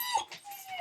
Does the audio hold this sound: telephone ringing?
no